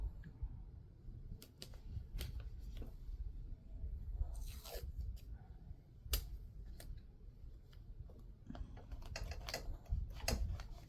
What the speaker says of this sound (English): I think I'm going to tape it